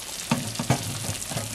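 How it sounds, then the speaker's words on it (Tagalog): Pinipig bibingka, freshly cooked and still bubbling hot, gives off a soft sizzling hiss with a few small popping bubbles, close and quiet, with no talk over it. "Kumukulo-kulo pa."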